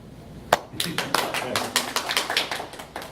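Audience clapping in a presentation room, a sharp first clap then a run of scattered, uneven claps building into brief applause, fairly close and moderately loud.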